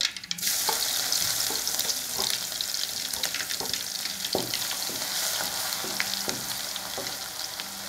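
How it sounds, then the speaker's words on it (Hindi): Garlic frying in hot oil with mustard seeds over medium heat for mango pickle, a close continuous sizzle punctuated by crisp spoon scrapes and stirring clinks, without speech. "उसमें हम लोग अभी लहसुन डालते हैं।"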